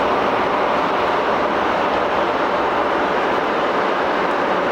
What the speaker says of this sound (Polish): Nie będzie wiele słychać, bo jadą pociągi akurat.